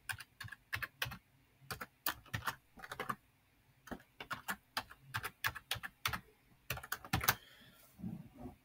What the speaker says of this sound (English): So this time I'm going to enter a password that it likes.